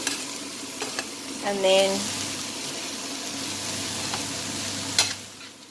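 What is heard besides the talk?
stirring green beans curry in a pot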